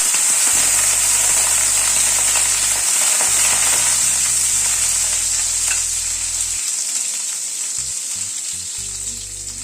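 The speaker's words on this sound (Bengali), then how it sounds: "তেলে হাফ টিস্পুন সাদা জিরে ফোড়ন দিলাম, একটা তেজপাতা ফোড়নে দিয়ে দিলাম, আর এখানে একটা আলু লম্বা লম্বা করে কেটে নিয়েছি, সেটা দিয়ে দিলাম।" Potato strips with cumin seeds and a bay leaf fry loudly in hot oil, a steady close sizzle that fades slightly over time, with occasional low hums in the background.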